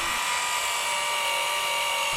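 An electric polisher with a medium pad and coarse compound works a cafe racer fuel tank, giving a steady, close, high-pitched whine that holds evenly throughout with no pauses.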